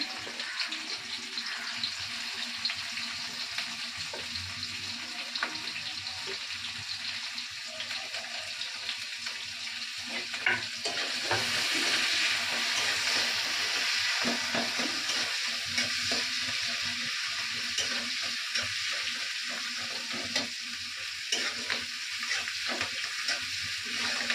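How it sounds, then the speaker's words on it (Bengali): Onion and green chillies frying in hot oil for a home-style chicken curry, with a loud, steady sizzle that swells midway, punctuated by stirring scrapes. "তো তেলের উপরে আমি পেঁয়াজ, লঙ্কাটা দিয়ে দিলাম। পেঁয়াজটা একটু ভাজা ভাজা হবে।"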